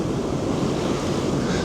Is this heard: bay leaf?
no